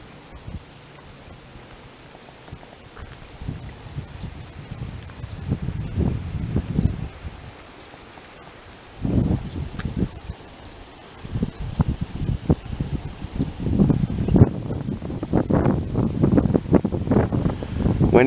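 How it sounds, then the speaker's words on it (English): Wind gusts buffet a microphone outdoors after rain, giving low rumbling surges and muffled roars that rise and fall in irregular bursts, with quieter lulls between gusts. Faint talk may sit underneath. "The reason it sounds like it, because my microphone's pointed that way and the wind's coming this way"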